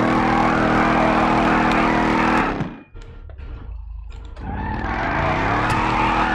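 A 2011 Ford Mustang GT Circuit Spec mod in GTA5 with side exhaust, a loud droning engine that cuts out during a gear change or lift-off with a brief skid, then revs back up and holds.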